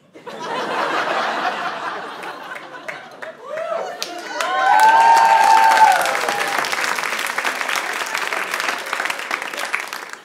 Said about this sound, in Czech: Tentokrát ten potlesk nebyl potřeba